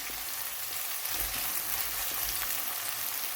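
Onions saute over raised heat for a soya paneer curry, producing a soft, steady sizzle with a gentle patter like light rain and occasional faint stirring sounds.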